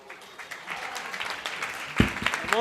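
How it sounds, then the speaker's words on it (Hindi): Applause from an audience, a steady patter of clapping that swells briefly near the end, with no speech over it. "ऐसी तालियां हो जाइए, गजब, बहुत बढ़िया।"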